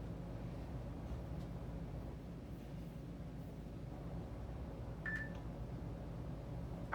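A workout timer gives a single short electronic beep as it starts, faint and brief against a low steady room hum, with no voices.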